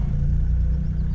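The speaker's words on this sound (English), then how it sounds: "So I will increase the throttle a bit now" Diesel inboard engine of a Bavaria 41 sailboat running steadily as the throttle is opened a little, a dense low rumble that holds at an even, close level throughout.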